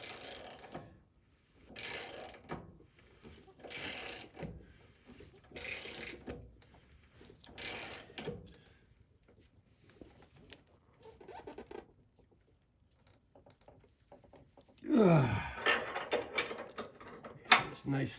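A bushing being pressed into the frame of a 100 series Toyota Land Cruiser at the right lower control arm, giving faint repeated mechanical ratcheting clicks in slow rhythm, then a louder grinding squeal near the end.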